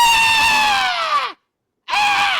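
A voice imitates a high, shrill freak-out scream in two long, piercing bursts separated by a brief silence, loud and close.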